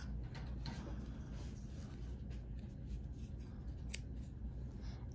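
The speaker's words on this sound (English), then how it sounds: "And then I like to cut the tail off." Scissors snip through a crochet yarn tail on a granny square, a quiet close cut heard alone against faint room noise.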